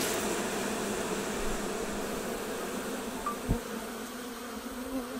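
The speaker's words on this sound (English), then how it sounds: "Then suddenly it seemed as if every bee was rushing about and heading for the entrance." Dense, steady buzzing of a honey bee swarm pouring out of a hive entrance fills the scene, a continuous insect drone with no talk, holding level throughout.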